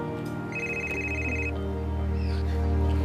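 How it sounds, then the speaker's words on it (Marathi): A phone's electronic ringtone sounds in a Marathi film scene as one clear ringing burst over a constant low background hum, with no voices over it. "तो फोन आता घे"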